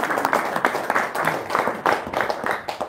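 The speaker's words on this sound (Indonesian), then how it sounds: "Sip, tepuk tangan dulu dong." An audience claps for a few seconds, a dense patter of many hands at moderate loudness.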